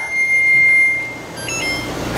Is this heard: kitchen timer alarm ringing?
yes